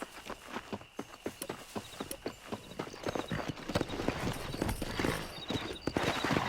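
Horse hooves clip-clopping while riding in the video game Red Dead Redemption, a steady rhythmic gait that quickens and grows louder partway through, with faint ambient game sounds beneath.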